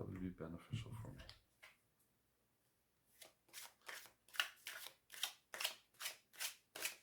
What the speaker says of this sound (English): even as clumsy a person as I can overhand shuffle this deck